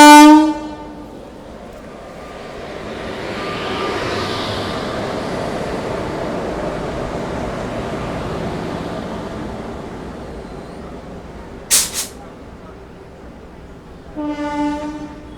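The 17641 Narkher Intercity Express, running from Kacheguda to Hazur Sahib Nanded, rumbles past at a steady roar, with a loud horn blast at the start, a sharp short burst near the middle and another horn sounding near the end.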